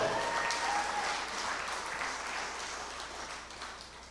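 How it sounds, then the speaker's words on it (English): Crowd applause at a political rally held at a Hindu school, dense sustained clapping from a large audience that starts strong and tapers slightly, with no clear talk over it. "Give the man a round of applause."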